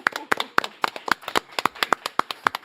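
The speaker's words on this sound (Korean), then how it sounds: "유시민 작가님 박수로 맞이합니다" Sharp, separate claps repeat in a brisk, fairly even rhythm as a talk-show audience welcomes a writer guest onto the stage. The claps are close and distinct, with no talking over them.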